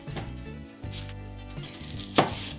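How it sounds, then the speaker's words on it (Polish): Onion and other vegetables being cut into large pieces on a board for braised pork cheeks: a few distinct, close knife chops spaced apart, the last one sharpest, with no talk over them. "Zaczynam od cebuli. Warzywa kroję w dosyć duże kawałeczki."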